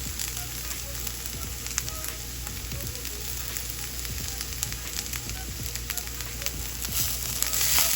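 Vegetables sizzle and caramelize in a hot cast iron pan, a steady continuous frying hiss with scattered crackles and pops throughout, with no talk over it.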